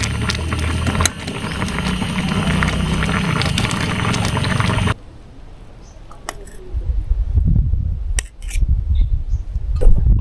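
Water heats in a pot for Maggi noodles outdoors on a hill near Bangalore, a loud steady rushing bubble for several seconds before cutting to quieter surroundings with scattered clinks and handling noises.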